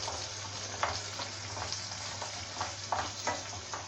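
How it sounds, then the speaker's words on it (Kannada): Sliced onions fry in a pan for palak paneer, a dense continuous sizzle with scattered stirring clicks and a low steady hum beneath. "ಈರುಳ್ಳಿನ ಉದ್ದದ ಕಟ್ ಮಾಡಿ ಇಟ್ಕೊಂಡ್ರು ನಡೆಯುತ್ತೆ. ಓಕೆ, ಫ್ರೈ ಮಾಡ್ಕೊಳ್ಳೋಣ."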